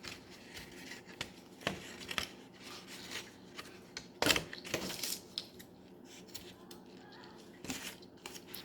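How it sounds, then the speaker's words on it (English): Scissors snip off the loose end of a string after a double knot is tied, producing a few quiet, close clicks and cuts scattered over otherwise soft handling noise. "then you're gonna tie a knot, a double knot, and then cut off the end of the string"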